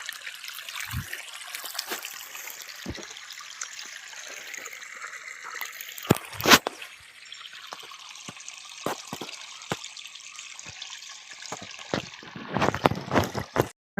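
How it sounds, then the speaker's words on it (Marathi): Solar-pumped water pouring from a pipe to irrigate an onion field outdoors, a steady trickling flow with occasional bumps and knocks near the end. "समोर पाणी चालू आहे"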